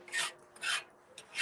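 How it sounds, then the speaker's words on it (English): A scraper rasps residue off the top of an AGA outdoor grill in three or four short, close scraping strokes, heard alone. "So I'm gonna use my scraper and I'm just gonna lift it off like so."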